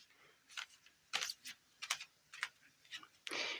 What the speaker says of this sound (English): I'll just give it a quick shuffle